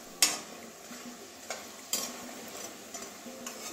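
Green chilies are stirred while they fry in a pan. A quiet sizzle runs underneath a few sharp scrapes and clinks from a spatula, spaced irregularly.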